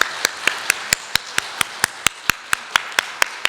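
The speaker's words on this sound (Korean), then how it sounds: "박수로 축복하겠습니다." Congregation at a church worship service clapping in a steady, even rhythm, about sixteen sharp claps in unison at a brisk pace, close and clear with no talking.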